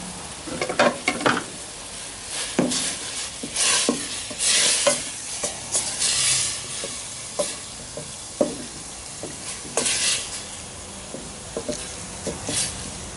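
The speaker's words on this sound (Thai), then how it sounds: "ก็คั่วให้สุกนะครับ คั่วก็คือคั่วกับน้ำซุปครับ" Minced pork is stir-cooked over low heat in an offal broth for northern Thai laab, with repeated bursts of sizzling and spatula scrapes rising and falling in an uneven rhythm, close and fairly loud.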